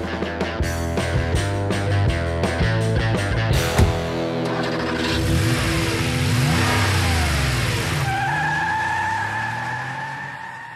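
A 2018 Fiat Spider sports car engine revs hard and accelerates with rising pitch, tires briefly squealing, then settles into a steady high drone as it pulls away.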